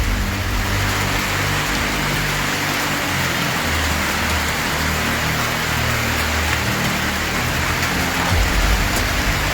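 Heavy monsoon rain pours steadily and loudly throughout in Vaibhavwadi, a dense continuous hiss with low rumbling underneath and no voices.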